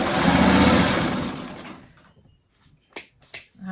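A sewing machine runs in a short burst as it stitches a fabric strip, a close, loud whirring that winds down after about two seconds. A few sharp clicks follow in the quiet.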